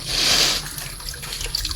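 Muddy materials from a homemade water filter are rinsed under running water, a close, steady splash and trickle that swells early and then settles into lighter drips and small knocks.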